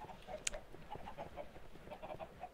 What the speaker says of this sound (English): it sounds like there's a decent amount of chickens in there.